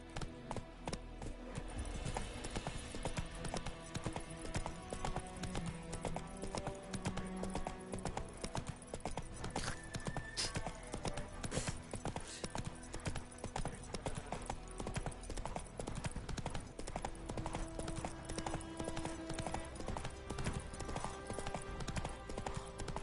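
Roach the horse gallops steadily in The Witcher 3, with continuous rapid clip-clop hoofbeats over a dense game soundscape and music, sustained throughout at moderate loudness.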